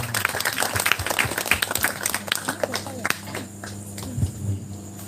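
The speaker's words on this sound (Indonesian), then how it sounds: "kita kasih aplaus dulu untuk Ibu Kirana Kejora" An audience applauds Ibu Kirana Kejora at a talk event, with a crisp burst of clapping that thins out and fades within a few seconds.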